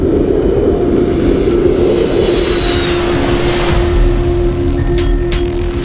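Jet airliner engines spooling back up and regaining thrust after a total power loss at altitude, a loud, steady roar with a sustained tonal whine rising over about six seconds.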